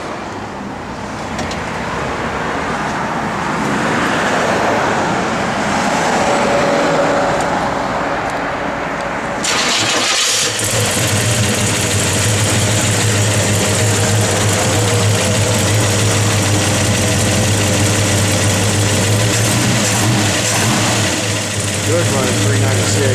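A 1966 Chevrolet Chevelle SS with a 396 engine turns over and settles into a loud, steady rumbling idle that continues without a break.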